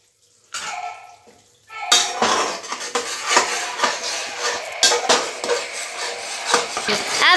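Mutton being stir-fried in a pressure-cooker pot for a Hyderabadi turai gosht salan, with a ladle clattering against the metal and hissing bursts in a steady, busy rhythm after a quieter start.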